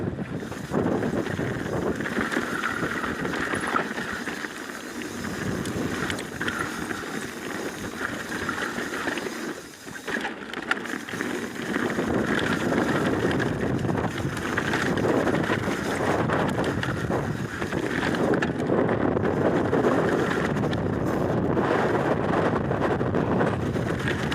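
Wind pushing a boat leaving the island of Madeira, a steady broad rush of wind buffeting the microphone with water noise beneath, continuous and fairly loud throughout with a brief dip midway.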